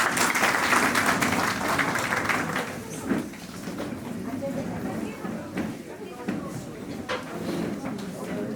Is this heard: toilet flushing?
no